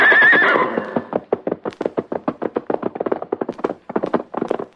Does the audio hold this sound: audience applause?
no